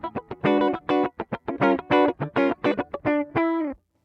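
Gibson Memphis ES-137 Custom electric guitar played through an amp with the bridge pickup turned down and the neck pickup up, a quick run of picked notes and short chords, warm and moderately quiet, no talking.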